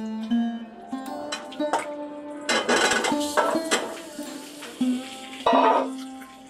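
Potatoes and eggplant frying in a pan while being stirred, with a steady sizzle, intermittent scraping of a spoon against metal and a faint background hum.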